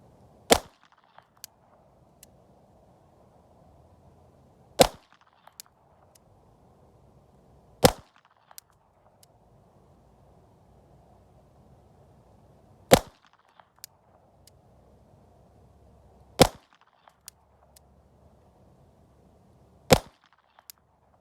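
Six sharp, loud gunshots from a 2024 Walther PPK .32 ACP pistol fired double action, spaced unevenly a few seconds apart, with faint clicks and handling noise between them and no talk.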